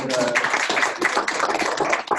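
Brief burst of audience clapping at the close of a talk on sustainable coffee development in Rwanda, dense and close, fading out after about two seconds.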